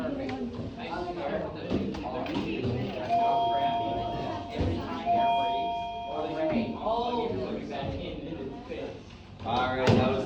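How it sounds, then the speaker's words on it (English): A sustained electronic school bell tone sounds twice in the middle of busy classroom chatter, with several people talking throughout. "that was the second bell"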